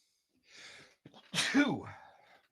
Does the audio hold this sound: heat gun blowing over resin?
no